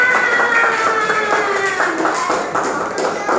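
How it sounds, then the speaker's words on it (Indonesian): Schoolchildren in a classroom clap along, a moderately loud rhythmic patter of small hands mixed with children's voices and chatter throughout. "Tepuk tangan"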